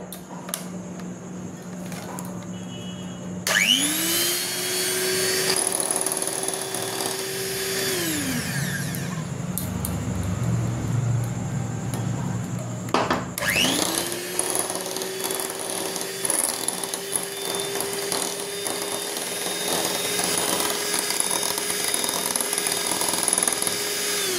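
An electric mixer beats eggs and sugar into a foam for a cake, whirring loud and steady with rising and falling speed; it cuts out briefly partway through, then starts up again.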